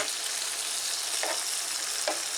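Beef çöp şiş skewers frying in a pan, a loud, dense, continuous sizzle with a couple of brief flares of spattering, close up and without talk.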